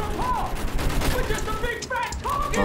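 Gunfire in the World War I shooter Battlefield 1 crackles in rapid, dense bursts, loud and close, mixed with game sounds and a voice speaking over it.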